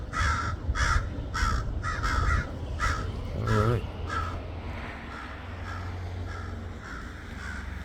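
A crow caws repeatedly outdoors in a garden while chasing off another bird, a series of harsh, evenly spaced calls that fade out midway, with a person speaking briefly over them.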